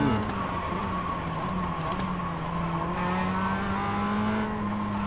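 Mazda MX-5 race cars racing at Oulton Park make a continuous engine drone heard from trackside, with overlapping tones slowly shifting in pitch as cars pass, and background sound steady throughout.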